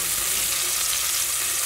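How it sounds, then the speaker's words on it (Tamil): Onion and green chillies fry in oil already spiced with cinnamon and cloves, producing an even, close sizzle that holds steady throughout. "இப்போ வெங்காயம், பச்சை மிளகாயை போட்டுடலாம்."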